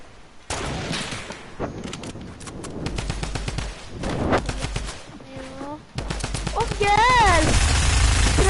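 Rapid bursts of video game gunfire crackle through the whole stretch, loud and close, with layered automatic fire, some intermittent tonal game effects, and players talking over it.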